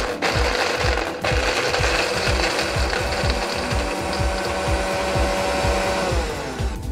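Kitchen blender grinding walnuts and cashews with a little milk for rose lassi, a loud steady motor whir with a fast pulsing churn throughout, brief dip near the start then continuous running.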